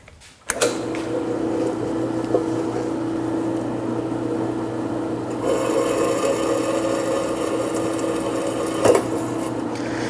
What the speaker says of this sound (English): I'll drill those out now and get those ready for the screws